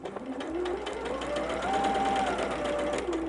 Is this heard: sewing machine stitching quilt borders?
yes